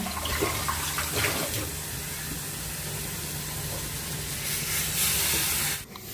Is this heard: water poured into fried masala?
yes